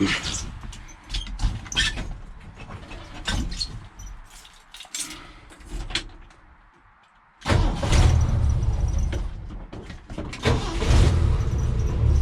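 A 1977 Ford F-150 with a newly replaced radiator cranks with a few uneven, broken bursts, goes briefly quiet, then fires and settles into a loud, rough running rumble close by.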